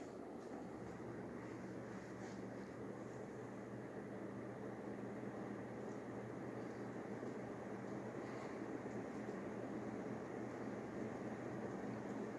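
A Quorum QXL ceiling fan runs on high in a room, giving a faint, steady low hum and soft whoosh of moving air that holds unchanged throughout.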